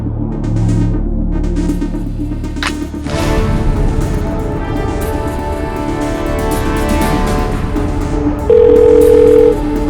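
Telephone dial tone on an outgoing call, a steady throbbing tone running continuously and fairly loud, with a brief louder stretch near the end.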